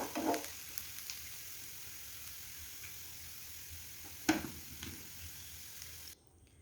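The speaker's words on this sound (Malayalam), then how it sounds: "ഇവിടെ മൂത്ത് വന്നിട്ടുണ്ട് ഇളക്കി കൊടുത്തിട്ട് നമുക്ക് സ്റ്റവ് ഓഫാക്കാം" Ginger for puli inji frying in a pan on the stove, giving a steady soft sizzle with a few sharp scrapes of stirring and brief clatters before the sound cuts off near the end.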